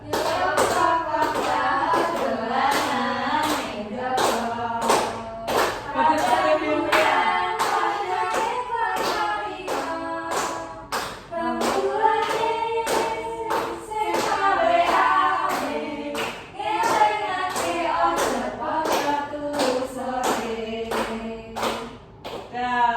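A classroom group sings together while clapping hands in a steady rhythm, the claps landing as regular sharp beats under loud, continuous group singing throughout.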